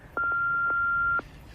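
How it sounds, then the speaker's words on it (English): A voicemail bleep on a phone call: a single clean electronic tone lasting about one second, loud and close, with no talk over it. "Please leave a message after the bleep."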